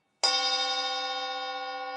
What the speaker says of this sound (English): Instead, I switched to a gong sound.